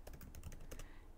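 Close, quiet burst of keystrokes on a computer keyboard, quick irregular taps running for about a second with no voices.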